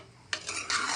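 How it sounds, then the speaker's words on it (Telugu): Chicken pieces coated in ginger paste and turmeric are stirred and mixed with a spoon in a pan, two short scraping, rubbing strokes close up with no talking. "నీట్గా మనం ఇలా మిక్స్ చేసుకోవాలి చికెన్ అనేది"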